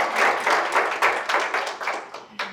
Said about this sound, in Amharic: እባካችሁ አጨብጭቡላቸው፣ አመስግናቸው።